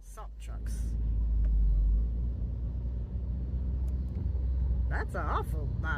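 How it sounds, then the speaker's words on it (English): A line of salt trucks rolls past on a Chicago street ahead of forecast snow, a loud low engine rumble swelling and holding near, with a voice talking briefly at the start and end. "That's an awful lot of salt trucks."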